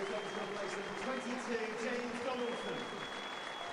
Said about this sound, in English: Bradford and Warrington spectators showing their appreciation of a gallant effort